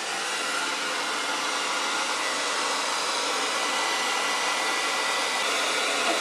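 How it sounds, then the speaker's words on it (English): A hair dryer blows steadily at close range, a constant loud whooshing hum with no pauses and no talking. "We're gonna give it one more coat of the hair dryer."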